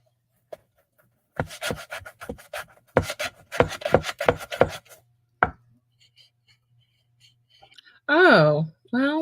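Sandpaper rubs over a wooden crown photo box in quick back-and-forth strokes, in two rhythmic bursts of about a dozen close scrapes, then quiet and a person speaking.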